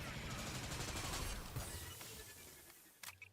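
E11 blaster fire in Fortnite's Star Wars season, a fast stuttering volley of energy shots like an SMG, loud at first and trailing off, with a few sharp clicks at the end.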